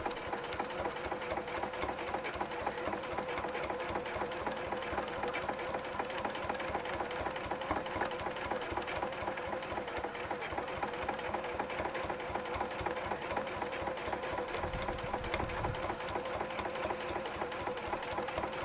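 A long arm quilting machine stitches small, tightly packed designs in a traditional clamshell quilt, producing a continuous rhythmic mechanical hum with rapid needle pulses at a steady, moderate level for the whole stretch.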